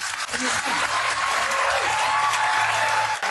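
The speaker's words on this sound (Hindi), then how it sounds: "उन सब बेवकूफों को देखो जो ताली बजा रहे हैं।" Audience clapping fills the space steadily and fairly loudly, a dense wash of applause running throughout with a faint tonal line from a voice or microphone underneath.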